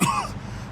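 A man with broken ribs from the video game Mafia II gives a single short, rough throat-clearing cough close up, fading into a quiet hum.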